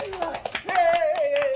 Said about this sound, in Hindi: चलो ना, बजाओ ना तालियां